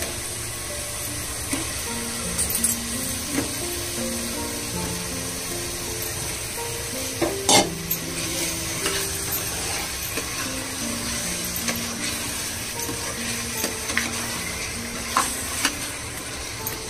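Steady sizzling of potatoes frying in a pan for potato dum biryani, with scraping spoon strokes and occasional clinks as they are stirred; no talking.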